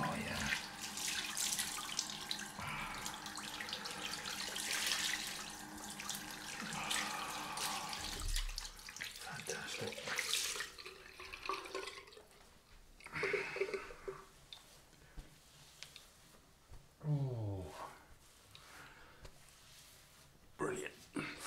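A bathroom tap runs steadily for a cold face rinse after a straight-razor shave, then water splashes and sloshes in bursts with pauses, someone speaking intermittently over it.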